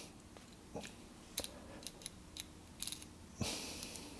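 Seiden 32 type step switch being clicked between positions: several small sharp mechanical clicks spaced irregularly, followed by a longer scraping click at the end, quiet and close.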